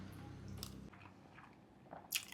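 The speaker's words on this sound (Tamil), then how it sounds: "ஒரு பெரிய பைட்டாக போய் சாப்பிட்டு பார்த்துருவோம்" Close, faint biting and chewing into spicy noodles, with a soft squishy crunch and a sharper click near the end.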